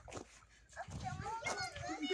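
A dog whining and giving a few short yips, with high whimpering tones in the second half. A person talks softly alongside it.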